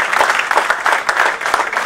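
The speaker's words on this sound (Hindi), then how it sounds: "आपके हाथ थके ना हो तो 2-4 तालियां पीट दीजिएगा" Steady applause from an audience at a Hindi poetry and music gathering, a continuous dense patter of clapping hands throughout.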